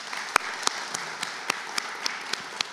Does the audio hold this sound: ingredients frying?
no